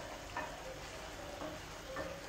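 Rice simmering in broth in a pan, stirred now and then, giving a steady soft sizzle with faint scraping strokes of a spoon, close and without talk; a creamy Italian-style red pumpkin risotto.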